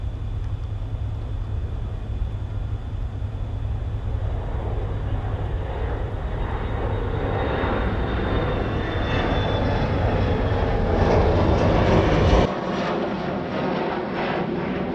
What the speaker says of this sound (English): Big plane.